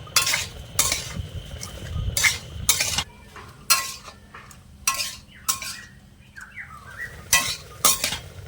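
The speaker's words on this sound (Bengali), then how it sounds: "এবারে সব কিছু ভালো করে নেড়ে ছেড়ে মিশিয়ে নেব আর মশলার সাথে দিয়ে একটু কষিয়ে নেবো" Spices with garam masala powder sauté in a pan as a metal spoon stirs them vigorously, producing repeated loud scraping strokes and clinks over a quieter sizzle close by.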